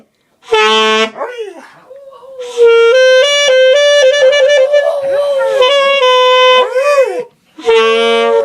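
A pet dog howls and yips in sustained, wavering tones along with music played nearby, its long pitched wails rising and falling across the clip with brief breaks, loud and close.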